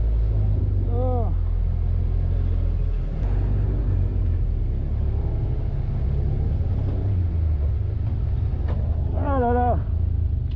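A Caterham Roadsport race car roars on the Nogaro track with a constant loud low engine drone, while a driver moans and cries out over it twice.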